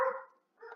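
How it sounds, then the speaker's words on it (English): A dog barks twice indoors in a quiet room, two short muffled barks separated by a brief pause, faint and somewhat distant. "That's my dog, by the way. Sorry if you can hear him."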